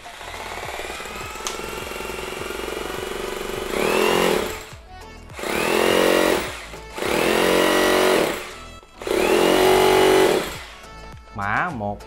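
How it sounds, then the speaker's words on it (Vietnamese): Electric hammer drill run in hammer mode, one of several concrete chisel and drill tools from Hitachi, Makita and Bosch, roaring in four loud close bursts separated by short pauses, with someone talking between them. "chức năng khoan búa."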